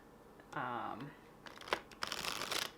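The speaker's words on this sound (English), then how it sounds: "My cousin Damien actually taught me how to shuffle how I'm shuffling right now" Tarot In Wonderland deck being hand-shuffled, soft riffling and flapping card bursts, close and fairly quiet, while a voice speaks briefly between them.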